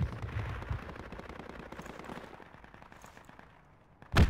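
Machine gun fire in the Project Reality war game rattles as a dense burst of rapid shots, fading into scattered distant firing before one sharp loud blast near the end.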